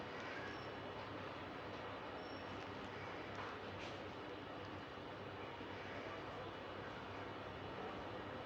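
A sewing machine stitches around the round edge of a baby abaya frock, giving a steady, unbroken mechanical whirr that runs faint but continuous, with no talking.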